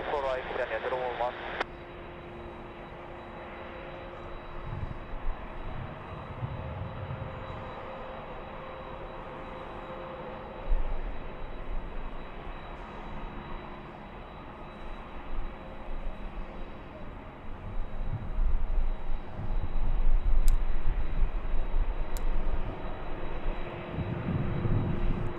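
A heavy airliner landing on runway 24 right at Los Angeles airport, a steady distant engine roar that swells louder toward the end, with a brief radio voice at the start.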